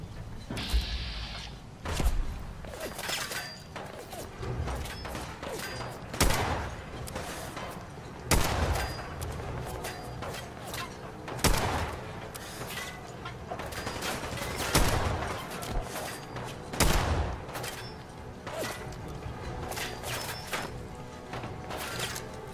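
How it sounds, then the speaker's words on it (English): Mortar blasts and gunfire in the video game Fallout 4: repeated heavy booming explosions and sharp shots arrive every few seconds over a continuous rumbling battle background. "Oh, they have mortars."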